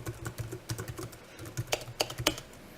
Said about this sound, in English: because I just need to type in some code so you can see what I'm getting at